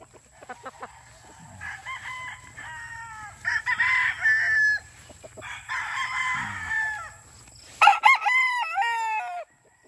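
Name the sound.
Sweater and Boston Roundhead cross gamecock rooster crowing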